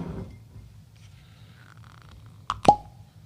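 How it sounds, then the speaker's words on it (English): A cork pulled from a bourbon bottle gives a single sharp, close pop near the end, after a couple of seconds of quiet handling. "let's get this crap out of the way so y'all can hear this cork pop"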